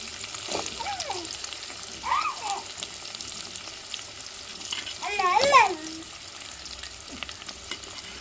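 Small onions (shallots) fry in a pan for an onion kuzhambu, a soft continuous sizzle with stirring scrapes, some running water and brief voices in the background.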